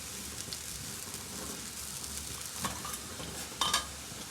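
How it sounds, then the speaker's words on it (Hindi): Whole spices and onions fry in a pan with a steady, soft sizzle, stirred now and then with a faint scrape and a brief clink near the end, no talk. "खड़े मसाले जो है ना प्याज के साथ ही ब्राउन कर लेने हैं, भून लेने हैं।"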